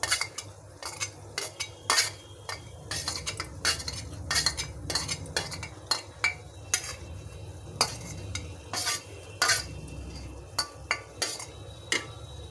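Chopped almonds, cashews and chironji stirred together for gulab jamun, with a spoon clinking and scraping against the pan in quick repeated strokes over a faint sizzle, close and steady throughout.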